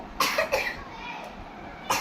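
Three short coughs from a child after laughing from tickling, two close together near the start and one after a pause, loud and close with faint background noise between.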